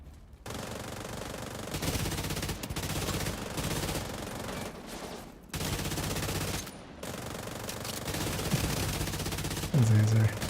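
Sustained automatic gunfire in The Division video game, long dense bursts rattling continuously with brief gaps between them, loud and close, ending in a final short burst.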